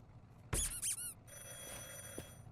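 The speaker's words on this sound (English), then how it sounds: "Phone's going off." A telephone rings in a long-distance driving game: a couple of short, bright, loud ring bursts, followed by a steady engine-like hum that continues underneath.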